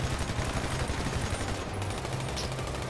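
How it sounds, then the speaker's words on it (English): Gunfire in Grand Theft Auto V crackles in a dense, continuous rapid burst, loud and close, with no talking. "I'm about to shoot this pilot"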